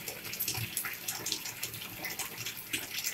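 Water sloshes in a bathtub as activated charcoal powder is swished around by hand, a soft, continuous splashing and swirling close by with no talk.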